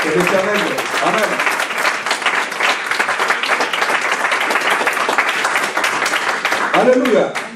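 Church congregation applauding steadily throughout, a dense sustained wash of clapping with voices briefly audible at the start and end.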